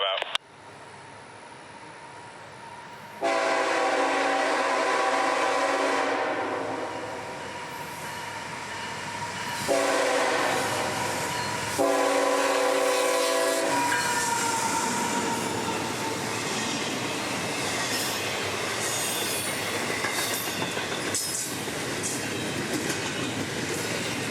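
CSX freight M211 with autoracks and a small cut of intermodal races south near Jacksonville, its horn sounding in long blasts over the steady roar and rumble of passing railcars, with wheel squeal and clatter continuing loud throughout.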